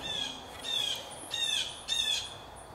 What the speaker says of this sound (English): Look at the angry birds hanging out in my front yard.